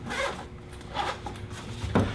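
The zipper on a video rig rolling case is pulled in several short, raspy strokes, close and fairly quiet, with brief pauses between pulls.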